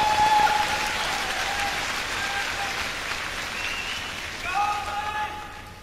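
A large arena concert audience at Nippon Budokan claps in a dense, steady wash, fading a little mid-way and then swelling again briefly near the end.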